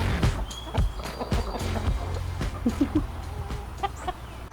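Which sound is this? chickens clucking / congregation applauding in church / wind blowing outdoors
chickens clucking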